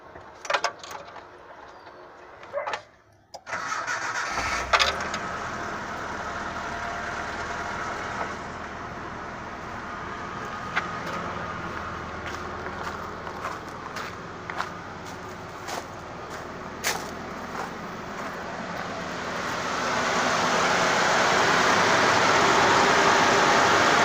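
Engine of a 1994 Nissan Hardbody truck, fresh battery fitted, catches after a brief crank and settles into a steady, loud idle close by, the running note swelling slightly toward the end.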